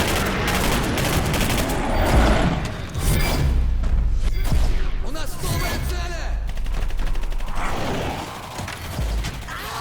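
Dense, loud bursts of gunfire and clanking mechanical noise from Singularity game combat, fast shots layered over rumbling booms and continuing almost without pause.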